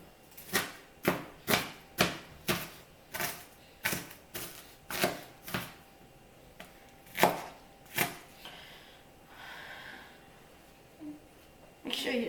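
Knife chopping an onion on a board for spaghetti and meatballs: a steady run of about a dozen crisp, close thuds, evenly spaced at first, then a few louder isolated strikes followed by softer scraping and shuffling.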